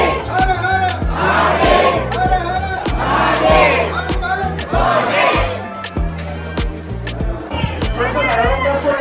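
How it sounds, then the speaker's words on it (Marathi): A large, dense crowd of devotees at Grishneshwar temple in Verul on a Shravan Monday roars continuously, with loud overlapping voices, chanting and shouts. "श्रावण सोमवार असल्यामुळे खूप जास्त गर्दी आहे आज"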